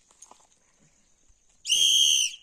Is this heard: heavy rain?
no